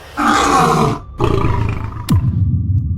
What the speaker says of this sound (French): Elle s'avança vers le roi et rugit telle une lionne.